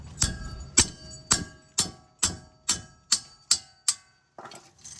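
A deep socket struck with a hammer while held against a Jeep Grand Cherokee front wheel hub during a bearing replacement, giving about eight sharp metallic taps at a steady rhythm, close and loud, with no talk.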